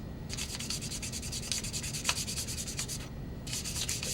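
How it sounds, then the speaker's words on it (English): Folded sandpaper rubs along the edges of a wooden yo-yo in quick, even back-and-forth strokes, close and fairly quiet, with one brief pause partway through. "And you want to sand every edge."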